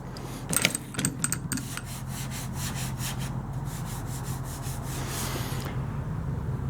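Abrasive scraping of hand sanding with 80 grit sandpaper over glazing putty on a 1929 Chrysler, a run of quick back-and-forth strokes that stops near the end, close and steady.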